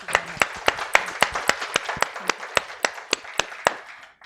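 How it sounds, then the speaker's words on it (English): Sparse, slow clapping from a small audience welcoming Professor Dudden at a talk on Korea-Japan relations: about fifteen distinct claps at a regular beat, near and fairly crisp, with no talk over them. "I would invite you to please welcome Professor Dudden with a warm round of applause."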